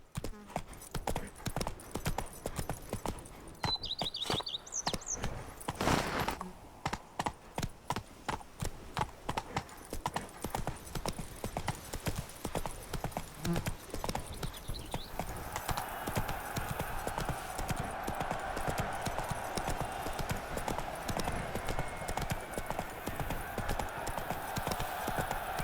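Roach the horse gallops in The Witcher 3, hooves drumming in a steady, rapid clip-clop rhythm for a long stretch, with an occasional snort and faint voices and ambient sound under the hoofbeats.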